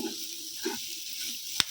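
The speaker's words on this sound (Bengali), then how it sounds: "একে একটু দাঁড়িয়ে ভাজতে হয় কারি পাতাটা।" Curry leaves fry in hot oil with a steady soft sizzle, a brief stir near the middle and a sharp clack near the end, with no voices.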